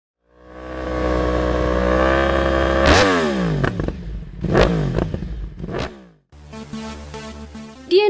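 A Yamaha R1M sport motorcycle engine revs hard and loud, climbing in pitch through several sharp high-rev bursts with quick drops between them, then settles into a steady, throaty idle near the end.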